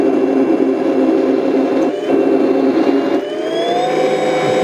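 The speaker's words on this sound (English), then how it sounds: "You can hear the turbine going." Jet-turbine-style whine from an RC M1A1 Abrams tank moving forward, a steady close mechanical whir with rising pitched tones toward the end, playing alone without talk.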